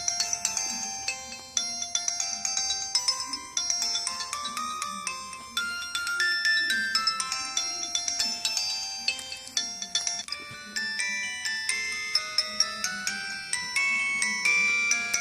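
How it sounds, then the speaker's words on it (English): A 32-chord polyphonic ringtone plays from a Samsung SCH-U340 phone: a bright, steady electronic melody of bell-like notes repeating rhythmically, clear and close, with no voices. "these are the 32-chord polyphonic ringtones."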